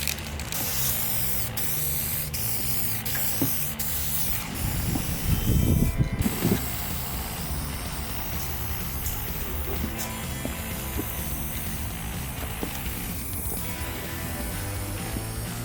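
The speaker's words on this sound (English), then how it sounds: "Time to start spraying." A steady hiss of a spray gun applying clear coat to a pickup truck hood runs throughout, with mechanical clicks and a brief louder burst midway, no talking.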